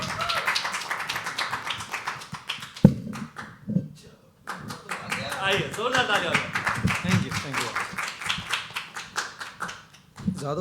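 Audience at a live poetry open mic at The Habitat claps to welcome a performer, steady near clapping with scattered hand slaps and a brief thump, a voice speaking over part of it.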